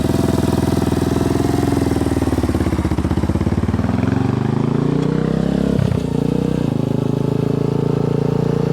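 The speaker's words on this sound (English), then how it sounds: "It's pipe sounds good with that new exhaust on there." A close, throaty ATV engine with an aftermarket exhaust idles steadily with a deep rumbling exhaust, pitch shifting slightly as it settles, with no talking.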